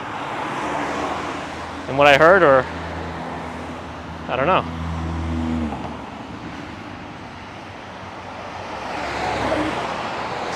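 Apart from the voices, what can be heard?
cars passing on street near Brooklyn Bridge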